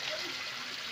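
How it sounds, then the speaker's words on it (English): An aquarium tank's circulation pump churns water into a steady, continuous bubbling wash with a faint trickle underneath, close by and constant throughout. "You see the circulation pump working perfectly with the bubbles giving a reaction to water"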